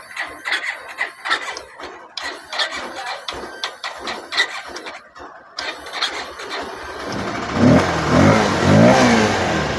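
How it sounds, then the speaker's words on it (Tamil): Bajaj BS6 motorcycle with the relay wires looped, first a series of clicks and ticks, then the electric starter whirs and the engine catches and runs at a close, steady idle. "லூப் பண்ணிட்டு செல்ஃப் போடுறேன்."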